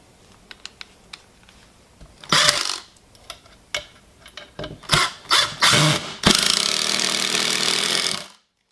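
A Hercules 20V cordless impact driver drives screws in several short bursts, then one long sustained run, loud rapid hammering rattle close up, with a few light clicks between runs and no voices.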